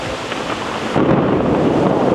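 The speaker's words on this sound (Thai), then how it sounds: "เพื่อจะฟังเสียงลมเสียงฝนเสียงฟ้าชัดๆนะครับ" Heavy rain pours steadily, heard from a third-floor parking deck at Impact Muang Thong Thani, with a deep rumble of thunder swelling in partway through and continuing under the downpour.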